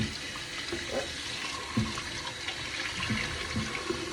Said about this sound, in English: So just clean, rinse them, rinse them, rinse them.